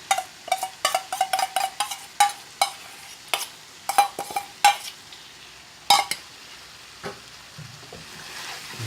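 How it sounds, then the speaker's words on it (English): A spoon stirring vegetable curry with tomatoes and base gravy in a pan, giving a quick run of sharp metallic scrapes and clinks that thin out toward the end, close and alone. "Give that a stir."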